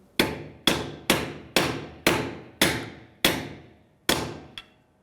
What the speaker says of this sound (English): give it a couple of taps with the hammer